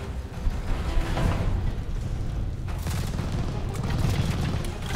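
Dense gunfire and explosions from a Call of Duty Vanguard battle, a steady roar of rapid shots and booms with no clear single bursts.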